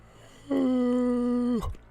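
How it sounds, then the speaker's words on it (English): A man gives a drawn-out, voiced yawn during football game commentary. It is one loud, close, steady-pitched groan lasting about a second that ends with a short exhale, with no other sound around it. "Sorry, I just yawned."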